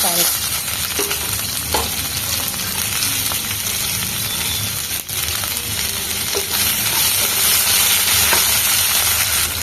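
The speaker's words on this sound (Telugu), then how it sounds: "బెండకాయ ముక్కలను అయితే కొంచెం నూనెలో అయితే బాగా ఇట్లా ఫ్రై చేసుకోవాలి" Medium-sized okra pieces frying in a little oil, a loud, steady close sizzle with occasional stirring clicks throughout, no talking.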